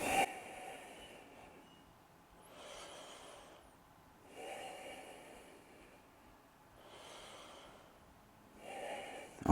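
Slow, deep breathing during a vinyasa yoga session, with four or five soft rhythmic breaths spaced a couple of seconds apart, close and fairly quiet, with no talk.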